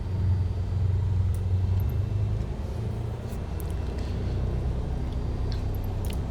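A small aircraft piston engine is throttled up from idle to about 1000 RPM during a preflight run-up, giving a steady, close, loud low rumble and drone with no talk.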